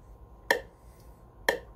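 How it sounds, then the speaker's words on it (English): Two sharp, evenly spaced metronome clicks exactly one second apart at 60 bpm, crisp and fairly close over a faint steady hiss. "Make sure your metronome is set to 60."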